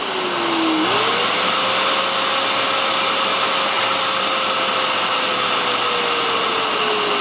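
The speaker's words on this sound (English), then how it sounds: "You hear how that blower goes fast and then slow and then fast and slow. That's the pulse mode." An air blower on a Gecko spa system runs in pulse mode, a loud, close, continuous whirring roar whose pitch rises once early on and then holds fairly steady.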